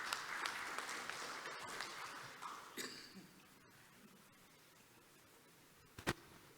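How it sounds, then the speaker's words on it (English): Audience applause at the opening ceremony of a business and economic summit, moderate clapping from the hall that fades after about three seconds into quiet room noise, with a sharp knock near the end. "Give him a round of applause, ladies and gentlemen."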